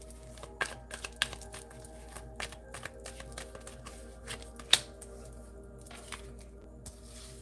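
Tarot cards are shuffled and drawn in a quiet room, giving soft papery flicks and riffles scattered across the stretch, with one sharper snap near the middle and no talking.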